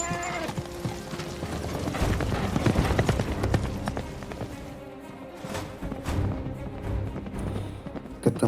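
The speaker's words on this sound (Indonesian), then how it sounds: "Setelah itu si Balian langsung menunggangi kuda dan mengejar bapaknya yang sedang OTW tanah suci" Hooves pound and clatter as a horse gallops in a film scene, with irregular beats over rumbling, busy soundtrack noise that eases partway through before picking up again.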